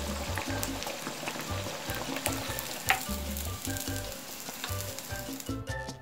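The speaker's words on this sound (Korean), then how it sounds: "170도씨에 색깔이 곱게 나오도록 튀겨주세요" Cheesy tofu cutlets deep-fry in oil at 170°C with a dense, steady crackling sizzle, and low bubbling pulses underneath as the oil boils around them.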